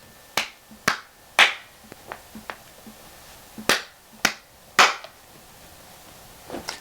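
Slow, separate claps, sharp and close, come in an uneven rhythm of about eight loud strikes with fainter taps between them and no voices over them.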